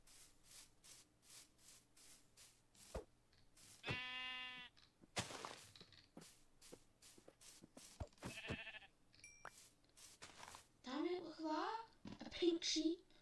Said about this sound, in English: It's a pink sheep.